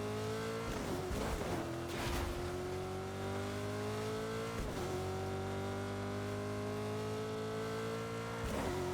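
Weak car driven in Fortnite: a steady engine drone with a slowly rising pitch, running continuously, with a few brief bumps and thuds along the way.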